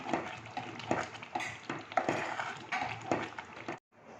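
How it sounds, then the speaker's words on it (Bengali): Spoon stirring khichuri with added sugar and salt in a cooking pot, a run of scraping, clinking strokes close up with soft sizzling beneath, ending abruptly in near silence. "এবার এটাকে নাড়িয়ে"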